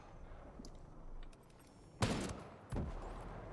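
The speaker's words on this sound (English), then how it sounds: "Oh, I heard gunshots." Two sharp gunshots from the tactical shooter Ghost Recon Breakpoint ring out in a game scene, the first a loud broadband crack with a short decaying tail and the second a softer shot about three quarters of a second later.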